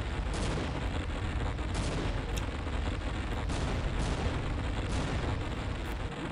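Sustained gunfire and explosions in The Xeno Project 2, a Half-Life mod, with steady loud shooting and repeated sharp cracks throughout, no talk.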